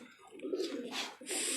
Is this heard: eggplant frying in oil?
no